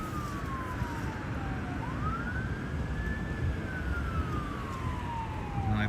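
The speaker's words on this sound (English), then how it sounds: "Oh, I hear more sirens." Ambulance sirens wail on a gloomy day in Boston, a single steady electronic siren sweeping slowly down, then up, then down again, moderately distant over constant traffic hum, with no talk.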